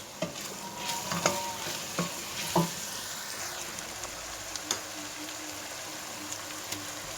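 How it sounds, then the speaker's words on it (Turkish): Onions, a sweet pepper and garlic cloves sautéing in a pan for a Turkish meat and potato stew, giving a soft continuous sizzle with a few sharp clinks of the spoon against the pan, fairly quiet and close. "Şimdi bir adet tatlı biber, ve 3 diş de sarımsak atıyoruz. Ve kavurmaya devam ediyoruz."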